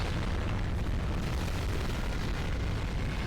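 A dense, continuous roar of booming cartoon explosions from an animated Skibidi Toilet episode, loud and unbroken throughout.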